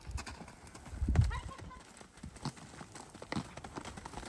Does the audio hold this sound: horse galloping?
yes